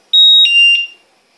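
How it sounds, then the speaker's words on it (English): Pyronix Enforcer wireless alarm beeping as the system is set, three quick high-pitched electronic tones in a row, loud and close, then silence. "To full set the system, you simply push the full set button, you leave the premises, and after a short delay"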